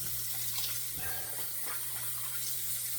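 Tap water runs steadily into a sink for rinsing a razor and face after a wet shave, a continuous close splashing hiss with no talking.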